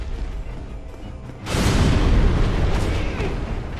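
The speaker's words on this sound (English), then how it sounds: "I hate how big the radius is on those explosions" A loud blast from the Demon Firesage in Dark Souls erupts suddenly partway through, a broad booming roar that swells and then lingers as a sustained rumbling wash after a quieter start.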